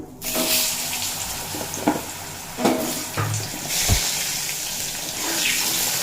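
Potatoes frying in hot mustard oil with nigella seeds, a steady sizzle with occasional stirring clinks and scrapes, close and continuous with no talking.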